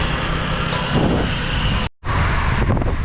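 Strong wind buffeting the microphone while riding a gravel bike on the road toward Oujda, a loud continuous roaring rumble with a brief cutout partway through.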